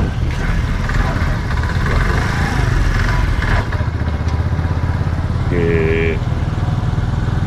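A motorcycle fitted with a sidecar runs steadily up close, its engine holding a continuous rough drone throughout, with someone talking over it.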